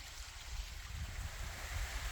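A small creek flows beside the hiking trail to Hemmed-In Hollow Falls, a soft, steady babble of running water that stays faint and even, with no talking.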